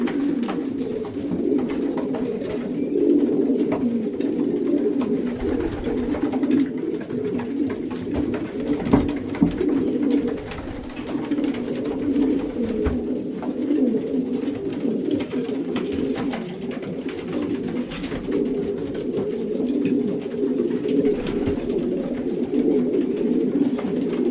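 Racing pigeons coo continuously in a loft the day before a race, a dense, low, steady murmur of many birds close by, with occasional faint rustles and no talking.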